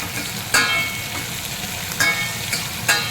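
Kadhi being stirred in a pan with mustard seeds and cumin: a steady sizzling bed of frying with a few sharp scraping strokes of the spoon spaced through it, close and moderately loud, no voices.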